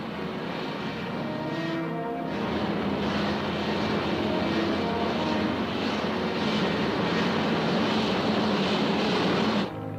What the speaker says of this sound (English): The takeoff is also similar to conventional planes. We'll taxi off for a while and then...